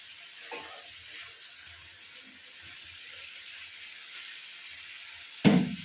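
Cabbage drops into a hot pan for a Bengali cabbage curry with fish head, setting off a sudden loud, hissing sizzle near the end after a stretch of quiet kitchen background.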